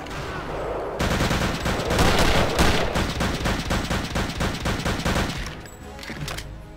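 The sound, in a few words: gunfire in video game Return to Castle Wolfenstein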